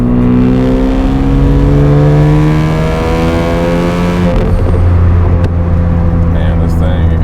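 A 400 hp Mazda FD RX-7 with a rotary engine revs loudly and up close, pitch climbing smoothly and holding high before dropping, with a rough, raspy exhaust tone and no voices over it.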